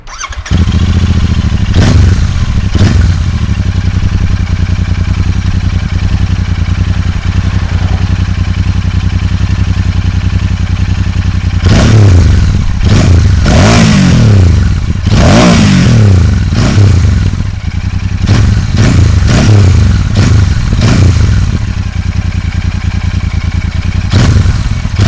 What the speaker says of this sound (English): I really like the sound of the engine. I will show you a sound clip